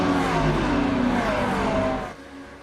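GT3 race cars roaring off the starting grid at Monza in the iRacing video game, a loud dense engine roar with rising revving tones that drops away sharply near the end.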